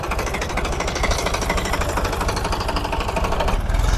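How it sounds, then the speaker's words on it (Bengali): Diesel engine of a fishing trawler near Kuakata beach, a loud, close, rapid rhythmic chugging that throbs steadily throughout. "এগুলো হচ্ছে মাছের ট্রলার"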